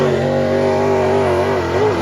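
A dirt late model race car with an 800-horsepower engine drones loud and steady at close range. Its throaty, sustained roar shows only small shifts in pitch near the end.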